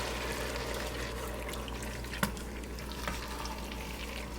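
A pot of chili with tomato sauce bubbles under a constant low simmering wash while a spoon stirs through it, with one sharp clank against the pot midway.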